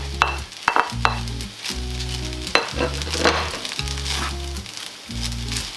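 Carrot and onion hitting a hot pan for vegan egg fried rice, a loud close sizzle with scraping stirs and clanks of the utensil against the pan, set over a steady low background hum.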